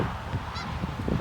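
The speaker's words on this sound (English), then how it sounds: "You see all these geese around." Geese honking outdoors in Charleston, Missouri, with a quick run of loud, nearby honks packed into a brief burst.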